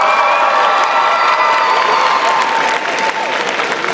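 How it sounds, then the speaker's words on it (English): Audience at the Otakon 2022 cosplay masquerade contest claps loudly and steadily, a dense roar of applause with scattered cheers and shouts that stays strong throughout before easing slightly near the end. "Let's give everyone a round."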